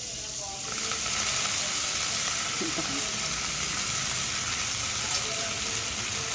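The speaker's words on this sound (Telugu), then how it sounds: "దోసకాయ ముక్కలు పెద్ద ఏగక్కర్లేదండి, ఇలా వేగితే సరిపోతుంది అన్నమాట" Cucumber pieces frying in a pan for a chutney, a steady close sizzle that swells up after a quiet first half-second and holds evenly.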